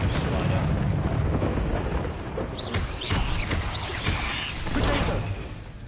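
Spell explosions from Bombarda and Confringo in Hogwarts Legacy, loud blasts and rumbling bursts layered over dense game combat noise, several hits across the stretch.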